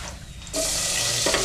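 Onions hitting a hot pan for tinolang manok: a quiet moment, then a sudden bright, steady sizzle that holds at moderate loudness, with a brief flare of crackling near the end.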